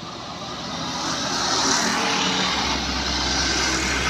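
Bus driving fast through a city curve in Aceh, a loud, building roar of engine and rushing air that swells and holds steady as it passes close by.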